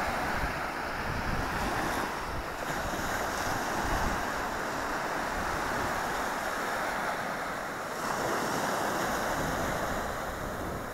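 Cold Atlantic Ocean surf washing onto a shore below red cliffs, a continuous loud roar of breaking waves mixed with heavy wind buffeting the microphone, with no talking.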